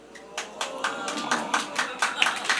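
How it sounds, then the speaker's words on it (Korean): Church congregation claps during a special revival meeting sermon, a sparse, uneven series of hand claps at moderate volume spaced across a few seconds, slightly reverberant in the hall. "갑자기 여기서 박수가 나오네요."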